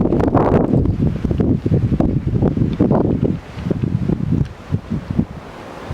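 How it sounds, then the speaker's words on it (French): Gusty outdoor wind buffets the microphone with loud, uneven rumbling that swells and eases in waves, continuous throughout. "J'espère que le vent n'est vraiment pas désagréable pour vous."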